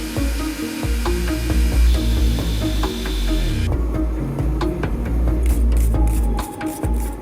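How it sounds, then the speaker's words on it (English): The tang of a hand-forged replica of a 1700s dentist's tool is ground on a power grinder, making a loud continuous abrasive rasp with shifting whine and scraping pitch throughout. "Let's grind the tang."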